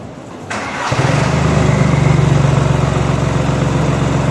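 A VW car fitted with a straight-pipe exhaust starts up: a short burst of cranking, then the engine catches into a loud, raw, throbbing rumble that settles into a steady idle close by.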